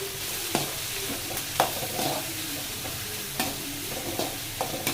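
Finely chopped onions sizzle and fry in a pan for a capsicum egg gravy, a constant hiss broken by sharp spoon clinks and scrapes as they are stirred.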